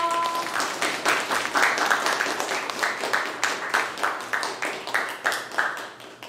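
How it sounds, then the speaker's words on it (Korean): A crowd applauds steadily at an esports event awards ceremony, many hands clapping in a sustained, rolling wave that continues for several seconds. "끝나고 박수 한번 쳐보도록 하겠습니다."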